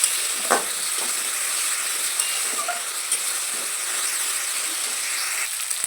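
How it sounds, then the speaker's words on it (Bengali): Ginger-garlic paste, ground spices and a green chilli fry in a pan for a potato chicken curry, a soft continuous sizzle with occasional stirring scrapes and clicks, alone with no talk. "বাটা মশলাগুলো, আদা রসুন পেস্ট, একটা কাঁচা লঙ্কা, আর দিয়ে এবার মশলাটাকেও ভালোভাবে কষিয়ে নেব।"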